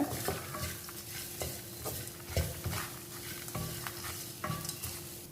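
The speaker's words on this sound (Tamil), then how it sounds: "இதையும் நல்லா நம்ம இந்த எண்ணெயில் லைட்டாக வதக்கிக்கலாம்." Grated coconut and spices fry lightly in oil in a pan, a low sizzle under repeated scraping stirs that come in uneven strokes, close and fairly quiet with no talking.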